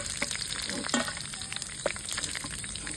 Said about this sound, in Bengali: মাছের মাথাগুলো খুব ভালোভাবে ভাজা হয়ে গেছে